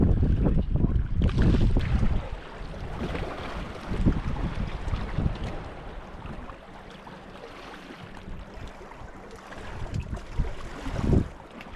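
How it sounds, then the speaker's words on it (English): Strong wind buffets the microphone on a lake pier during a king salmon and smallmouth bass jigging outing, a loud rumbling roar with gusts that swell and ease, no speech heard. "The wind is horrible."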